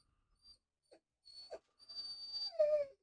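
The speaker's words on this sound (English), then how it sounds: "You can hear a dog making very much noise. Pathetic whining sound." A dog whining in a series of thin, high, pitiful whimpers that rise into a longer drawn-out whine at the end, heard alone against a quiet background.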